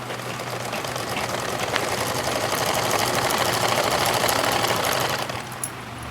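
A sewing machine runs steadily while stitching a blouse in a home sewing class, its fast even motor whir and needle chatter close and continuous for about five seconds before it slows and stops.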